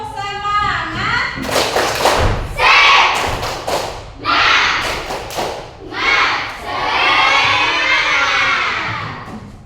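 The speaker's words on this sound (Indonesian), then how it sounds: "Sekarang kita tepuk semangat dulu ya." Schoolchildren in a classroom perform a rhythmic 'tepuk semangat' clapping chant, bursts of group clapping and thumps mixed with loud shouted chanting, close and energetic throughout.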